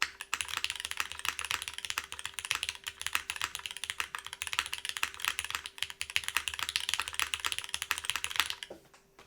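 Steady fast typing on a Cloudline v2 mechanical keyboard with an aluminum case and O-ring mount, a dense stream of bright, close clacks with a slightly resonant ring, alone and continuous for nine seconds.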